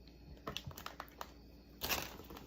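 Thick sunflower stems snipped one at a time at an angle, giving a few quiet crisp cuts spaced through the moment and a louder, fuller snip near the end, close by with no voices.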